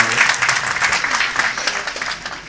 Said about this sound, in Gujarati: તાળીઓના ગડગડાટથી એમને વધાવી લેવામાં આવે